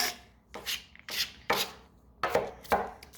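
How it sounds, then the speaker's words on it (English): Knife chopping an onion on a cutting board: six crisp, evenly spaced chops, close and clear, with no talking. "This is my lazy way of cutting onion"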